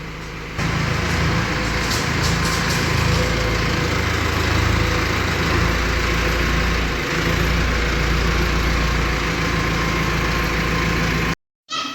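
A 4x4 tractor engine runs steadily at low speed, a loud, continuous diesel rumble close by that holds throughout before cutting off abruptly near the end.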